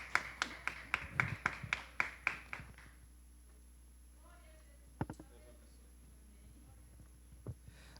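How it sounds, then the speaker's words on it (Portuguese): A church congregation claps in praise during a teaching service, about a dozen fairly quick, even claps over two to three seconds that then stop, followed by a quiet room with a few faint taps. "as palmas louvam o Senhor"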